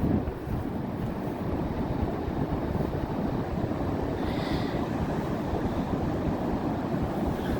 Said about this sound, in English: Look at the waves. The waves are jamming this morning.